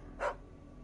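A single short dog bark from the video game Final Fantasy XVI on PS5, faint and brief, over a low background hum.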